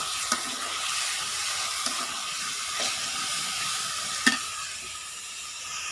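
Leafy greens cook in a hot pan on a stove, giving a steady loud sizzle and steamy hiss with a few soft stirring knocks, no voices.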